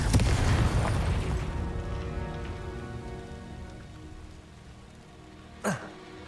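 Confringo spell in Hogwarts Legacy, a loud booming blast that rolls into a long crackling, ringing decay, followed by a brief sharp burst near the end.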